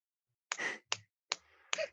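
Four crisp finger snaps, close and isolated in quiet, spaced roughly half a second apart, each a sharp click with a short bright tail.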